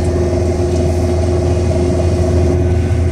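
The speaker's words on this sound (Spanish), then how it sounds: "ese coche acaba de pasar, matrícula italiana" A car with Italian plates passes on a road in Poland, its engine making a steady mid-pitched drone with a low rumble, loud and close for the whole span.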